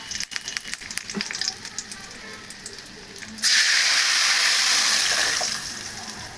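Cumin, mustard seeds, roasted coriander powder and curry leaves hit hot oil for a fish curry, bursting into a loud, steady sizzle partway through that holds for several seconds after some quieter clatter.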